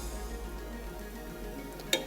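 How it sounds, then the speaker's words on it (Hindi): Onions frying in a pan as garlic-ginger paste and green chili paste go in: a steady, soft sizzle runs throughout, with one sharp utensil click near the end. "इसमें शामिल कर देंगे लहसुन अदरक का पेस्ट और हरी मिर्चों का पेस्ट"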